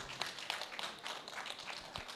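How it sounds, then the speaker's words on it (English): Audience applause at an agroecology week event in Uganda, a soft, steady patter of many hands clapping from a distance, fairly faint throughout. "A big hands of applause for him."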